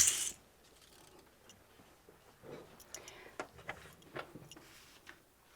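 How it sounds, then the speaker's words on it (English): Sewing clips are picked up and handled, giving a series of small, sharp plastic clicks and rattles, close and fairly quiet, with no talk. "All right, so let me grab my clips."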